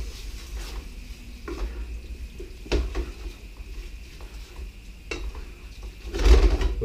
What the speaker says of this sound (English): You can get away now with just mixing this all up.